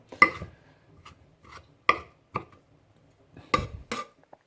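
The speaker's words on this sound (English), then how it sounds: "I'm just going to roughly chop that" A kitchen knife roughly chopping mushrooms on a board for risotto, a handful of sharp, uneven cuts spaced irregularly, close and clear with quiet pauses between strokes.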